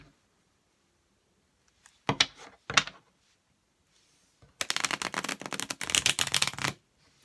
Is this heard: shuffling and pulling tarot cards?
yes